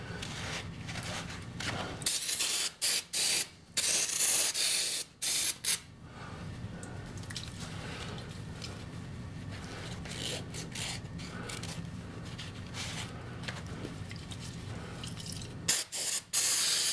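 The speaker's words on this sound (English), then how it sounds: "Then I'm going to take some brake clean and clean out this area where I put the grease and stuff." Brake cleaner spraying from an aerosol can to flush grease and metal shavings out of a drilled area on an engine cam, a steady close hiss with short stops and restarts at the start and end.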